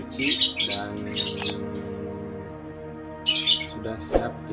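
Lovebirds kept in a breeding setup squawk and chirp in loud bursts near the start and again near the end, over a steady low hum with a quieter stretch between.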